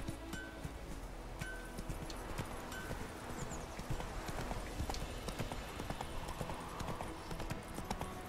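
Roach, a horse in The Witcher 3, trots with steady, close clip-clopping hooves under ambient game sound, with a brief whinny and faint voice nearby.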